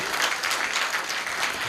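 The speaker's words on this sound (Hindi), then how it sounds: "शानदार, एक बार तालियां।" Steady applause from an audience at a Hindi comedy and poetry show, dense clapping throughout at an even level, with no one speaking.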